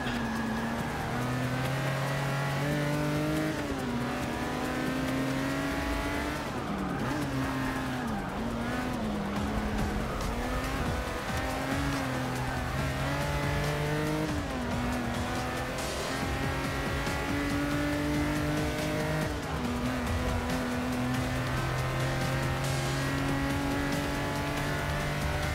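Race car in a racing video game, engine revving steadily up and down through gear changes with tires squealing in corners, loud and continuous throughout.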